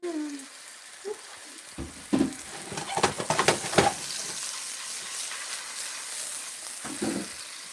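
Chicken sizzling and frying in a pan for a fajita bowl, a quiet steady hiss with scattered crackles and pops and a few clattering stirs of a utensil.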